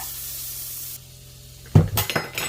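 Regular butter melts in a pan on a stovetop turned down low, giving a soft, steady sizzle that drops quieter partway through before a loud clatter of pan and utensil closes it out.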